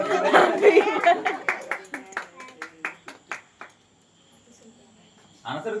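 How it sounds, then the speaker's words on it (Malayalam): A small group of friends on a trip claps hands in a steady rhythmic beat, a dozen or so sharp claps under chatter and laughter, then a brief pause before voices return. "കൈയടിക്ക് കൈയടിക്കണം"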